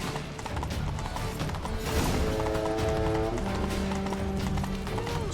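Horse hooves clip-clopping at a steady gallop in The Witcher 3 Blood and Wine, continuous and fairly close, under a bed of sustained music tones, with no talking.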